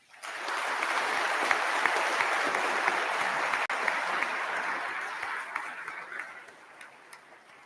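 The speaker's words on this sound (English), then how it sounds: "please recognize the accomplishments of these students with your applause" An audience at a career-technical school honors ceremony applauds students, sustained, even clapping from a fairly large crowd that swells quickly, holds for several seconds, then gradually thins and fades out.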